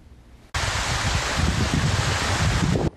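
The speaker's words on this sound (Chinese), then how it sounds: "听着雨声，雨下得很大，雨水打在地上还不断溅起水花。" Heavy rain pours at Sun Moon Lake in Nantou, a dense, loud, steady roar that starts abruptly and cuts off near the end.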